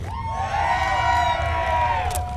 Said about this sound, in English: are all of you just cheering for the whole thing every single time?